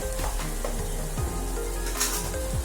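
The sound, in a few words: frying ginger garlic paste for mutton cucumber tomato curry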